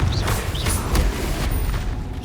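The Confringo explosion spell cast in Hogwarts Legacy rumbles as a dense, continuous booming blast, loud and close, with crackling bursts layered over a deep low roar.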